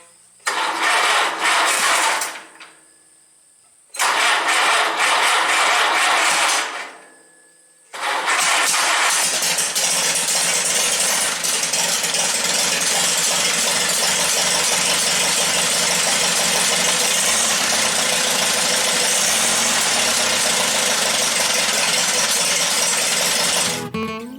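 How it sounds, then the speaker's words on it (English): A 1952 Case VAC tractor engine cranks in two loud bursts separated by silence, then fires and settles into a loud, steady, continuous idle for the rest of the time. "Turn the ignition on. Probably give it a little choke."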